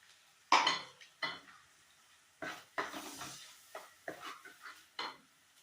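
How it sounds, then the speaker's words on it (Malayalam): A spoon scrapes and stirs a ground paste of coconut, chilli powder, turmeric and coriander in a pan for a fish curry, giving a series of distinct close scraping strokes with faint sizzling between them. "അത് എണ്ണ കിനിയും വരെ നമുക്ക് ഇളക്കിക്കൊണ്ടിരിക്കാം."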